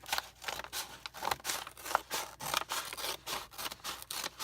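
Scissors cut through a paper grocery bag in a run of close, crisp snips and crunchy rustles, about a dozen rhythmic strokes with no talking.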